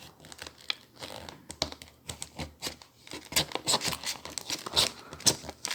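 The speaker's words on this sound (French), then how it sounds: "On va essayer de découper ça proprement." Earbud packaging box being cut open carefully, giving a run of close, crisp clicks, crinkles and scraping taps that grow busier and louder toward the end, with no talking.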